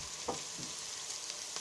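Chopped leek for a vegetable soup goes into a hot pot and fries with a quiet, steady sizzle, a few soft stirring knocks rising briefly above it.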